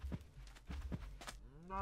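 Cows in the video game Minecraft moo several times in quick succession, short, low, close calls spaced through the moment, ending in a drawn-out tonal sound.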